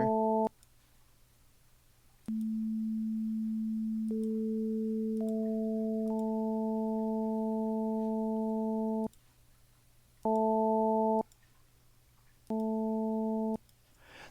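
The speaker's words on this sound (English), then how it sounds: "it will generate the harmonic series frequencies in the different channels of MCcycle" Pure harmonic-series sine tones generated with mc.cycle~ in Max/MSP: a low steady tone joined by stacked overtones that enter one by one, then cut off, followed by two short bursts of the full chord, with silence between.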